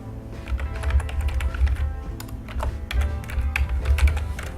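Steady typing on a computer keyboard, with fairly loud, close key taps in quick irregular runs over a low background hum.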